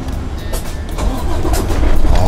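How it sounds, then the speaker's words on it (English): A truck engine cranks and catches, building into a loud, rough rumble that grows steadily over a couple of seconds with no voices. "You hear that engine?"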